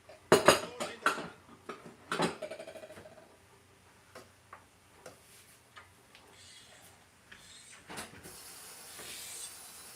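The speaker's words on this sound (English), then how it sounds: "Now I have the mushroom and onions cooking in the pan." Metal utensils clink and scrape in a pan of cooking mushrooms and onions, with a cluster of clattering hits early on, scattered taps later, and a soft sizzle rising toward the end.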